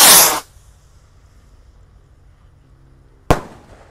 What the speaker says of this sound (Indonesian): Kita lihat seperti apa ini roket Roman Candle yang ukuran mini ya, kita nyalakan dulu.